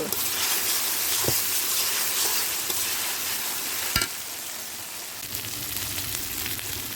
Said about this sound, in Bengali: পেঁয়াজ বাটা সরিষা বাটা এগুলো আমি দিয়ে ভালোভাবে নিয়ে নেব